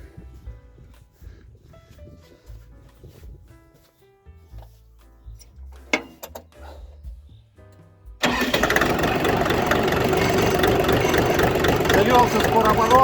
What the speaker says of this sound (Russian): заведем трактор